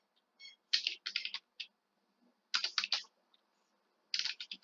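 Clicky typing on a computer keyboard comes in three quick bursts of rapid keystrokes with short silent gaps between them, close and fairly soft.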